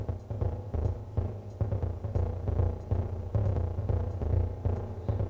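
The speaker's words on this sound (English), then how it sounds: "They can go through this delay, really noisy delay." A modular synth runs through a very noisy delay, giving a dense, throbbing wash of low pulses and gritty smeared repeats that never drop out.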